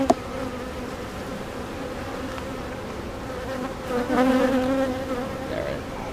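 Calm honey bees drone steadily around an open hive during a frame-by-frame inspection, a dense continuous buzz that swells slightly near the end, with no voices.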